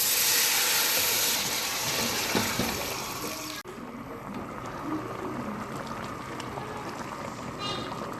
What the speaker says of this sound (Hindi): अब मैं इसमें ऐड कर रही हूँ यखनी